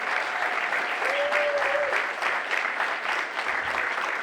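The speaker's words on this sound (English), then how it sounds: "How about a big round of applause for our panelists?" A morning seminar audience applauds its panelists, a broad, even wash of clapping hands sustained throughout at moderate loudness, with a brief faint tone and a voice briefly cutting in partway through.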